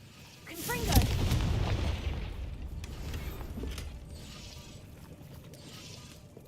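A Confringo fire spell explodes in the Hogwarts Legacy video game, a sharp boom followed by a rumbling, fading roar that trails off over several seconds.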